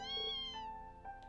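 A mother cat in the video game Trails of Cold Steel II gives one clear, drawn-out meow followed by a shorter, softer mew, close and alone without any talk.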